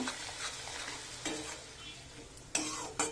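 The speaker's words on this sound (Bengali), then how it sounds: "রসুনটা ভালো করে ভেজে নেব।" Garlic paste and a little sugar frying in hot oil for a mutton kosha: a steady soft sizzle broken by a few louder scraping stirs of the pan, with no talking.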